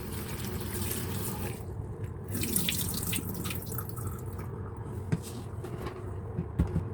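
Running tap water pours steadily over bitter melon being washed in a sink, a continuous hiss and splash with small shifts as the gourd is turned under the stream, no talking.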